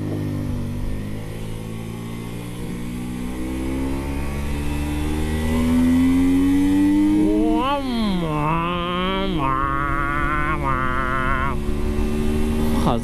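A 125 cc motorcycle engine revs up and accelerates, its pitch climbing steadily then rising and dropping through several gear changes, loud and close throughout.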